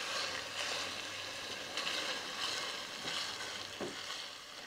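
Ground hamburger meat browning in a pan gives a steady moderate sizzle throughout, with a few brief scraping or stirring sounds on top and no talking.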